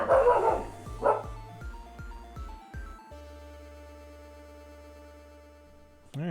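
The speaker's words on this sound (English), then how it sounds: "sorry about the dogs barking." Dogs bark close and loud in a quick cluster of sharp yaps over the first three seconds. A lingering steady tone follows, then a brief burst of noise at the end.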